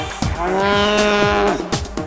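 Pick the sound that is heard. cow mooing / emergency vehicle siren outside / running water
cow mooing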